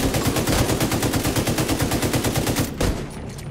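Rapid automatic gunfire in Tom Clancy's The Division 2, a fast, even stream of close, loud shots that stops abruptly near the end.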